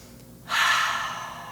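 Deep, drawn-out breath during a home yoga flow, a sudden strong breathy rush starting partway in and tapering off slowly, close and alone with no talking.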